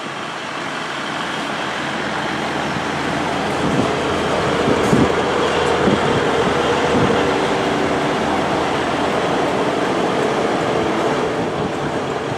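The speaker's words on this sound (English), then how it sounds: "this is the delayed 11:57 Great Western Railway service to Cardiff Central, formed of 158 749" A Great Western Railway class 158 diesel unit runs at Bristol Temple Meads station, a steady loud rumble with engine drone and a few wheel clunks over the rails, no voices.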